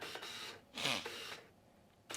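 A quiet Nikon N8008S (F801) film camera whirs briefly during autofocus and gives a short, high electronic beep, then mechanical clicks follow in a still room.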